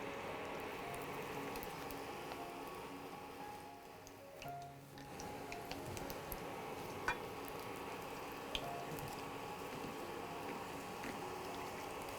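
Cauliflower florets dipped in gram flour batter fry in hot oil, giving a steady close sizzle and crackle throughout with a few faint ticks and clinks, briefly dipping midway before resuming.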